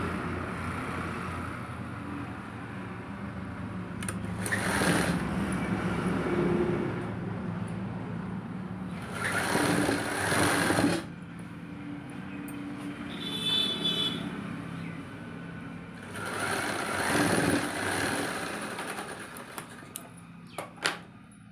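A sewing machine stitches a wide strip onto the underside of a crochet-patti belt blouse, running in three short bursts of rapid whirring separated by quieter pauses.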